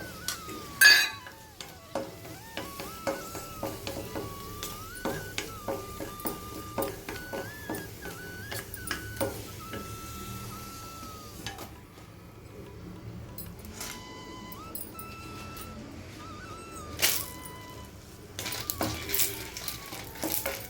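Spices with lump asafoetida and chillies frying in a pan for Thanjavur sambar powder, a steady soft sizzle under repeated close scraping and clinking of a spoon stirring against the metal, with faint incidental tones.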